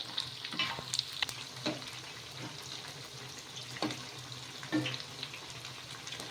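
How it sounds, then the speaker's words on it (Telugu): Poha roasts in a pan with a soft constant sizzle while a spoon scrapes and stirs it at irregular intervals, close and fairly quiet, with no talk. "ఇలా మనం మధ్య మధ్యలో కదుపుతూ బాగా కాల్చుకోవాలి కలర్ చేంజ్ అయ్యే వరకు"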